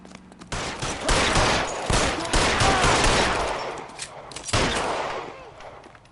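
Rapid bursts of gunfire from the 1940s detective video game L.A. Noire crackle loud and close in repeated volleys, with a short lull near the middle before the shooting picks up again.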